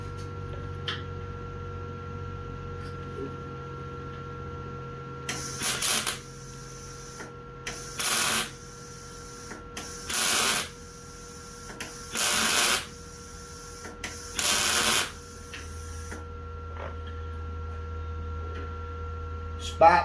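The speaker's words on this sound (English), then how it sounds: "Spot welding's the way to go, guys, on this thin shit." Five short, evenly spaced bursts of spot welding on thin sheet metal of an old car, each a crackling buzz lasting about a second, separated by quiet gaps over a low background hum.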